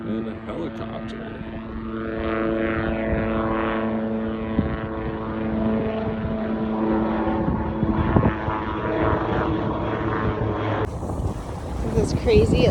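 A helicopter drones overhead in misty Iceland with a steady rotor thrum amid wind buffeting on the microphone, continuous and fairly loud, with people talking over it.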